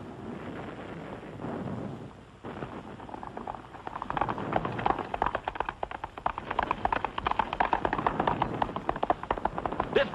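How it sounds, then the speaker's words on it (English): Distant cannon fire rumbles behind a Western war-era film scene, with a rough stream of rapid booms and crackle building over the second half, steady and mid-level without clear speech. "If you couldn't hear those cannon, you wouldn't even know there was a war going on."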